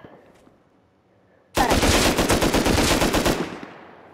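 A loud, close burst of rapid automatic gunfire in Call of Duty Warzone erupts suddenly after a quiet stretch, rattling for about two seconds before fading.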